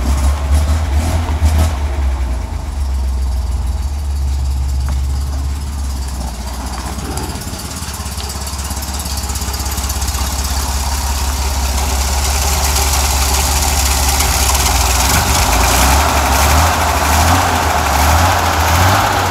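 A Chevrolet Corvair Monza engine idles steadily, loud and close, with a low rumbling throb and no voices over it.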